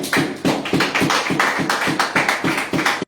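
Congregation clapping in church, loud and close, in a distinct rhythmic pattern of regular beats that stops abruptly at the end.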